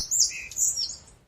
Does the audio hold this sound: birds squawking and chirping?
yes